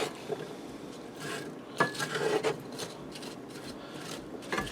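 Sliced pre-cooked kielbasa sausage stirred into a potato skillet on a stove, giving a continuous scraping, rasping rub of a utensil against the pan with a few louder knocks.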